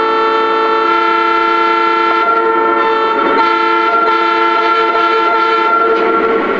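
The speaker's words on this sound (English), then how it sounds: "Really cool sound of horn." A Lionel Santa Fe Dash-8 model train horn sounds steadily and loudly for several seconds, a layered, harmonic toot held without a break over a low background hum.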